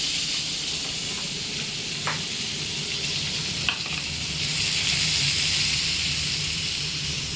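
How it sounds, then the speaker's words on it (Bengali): Chopped onions frying in hot oil in a pan, a continuous dense sizzle with a few scrapes and clicks of stirring, close and steady, growing slightly louder near the end. "তার জন্য আগে পেঁয়াজ নিয়ে নিচ্ছি গরম তেলের মধ্যে।"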